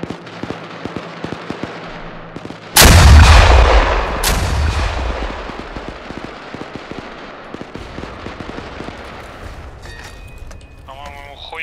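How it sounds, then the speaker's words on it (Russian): Two gunshots ring out in the military game ArmA 3, a loud nearby blast followed by a second report and a long echoing decay, with faint clicks and squad chatter over a radio around them. "Два выстрела."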